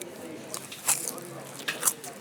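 Crunchy bites into a crispy baked potato pizza with cheese and olive oil in Florence, two sharp crackling crunches about a second apart, close and dry, with faint chewing between them.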